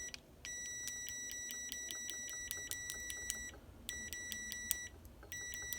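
Kaiweets HT206D clamp meter continuity tone, a shrill electronic beep pulsing in rapid repeated bursts, cutting out and restarting twice, loud and close over low background noise.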